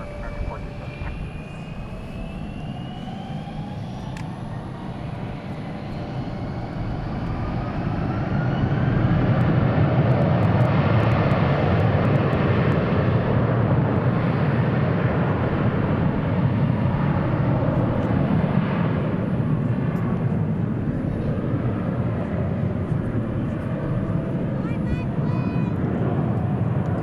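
A jet airliner taking off at DFW airport, its engine roar swelling after a few seconds into a loud, steady broadband rumble that holds for the rest, with a faint radio voice early on.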